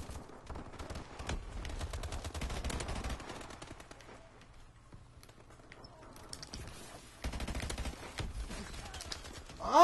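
Rapid automatic gunfire in the shooter Elite Guns, dense bursts of shots that come and go over roughly ten seconds, quieter in the middle stretch and picking up again toward the end.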